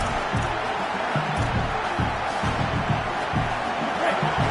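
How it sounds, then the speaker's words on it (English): Roaring stadium crowd noise, a constant dense wash of cheering with scattered whoops and a commentator talking over it. "This crowd bringing the energy and noise early."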